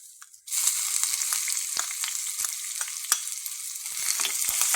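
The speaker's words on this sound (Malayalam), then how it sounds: "അതിലേക്ക് നമുക്ക് അരിഞ്ഞു വെച്ചിരിക്കുന്ന ഉള്ളിയും മുളകും ചേർത്ത് കൊടുക്കാം" Chopped onion and chilli dropped into hot oil with urad dal for a sweet potato leaf thoran, the sizzle bursting up after a short quiet start and holding steady with scattered stirring clicks, no voices.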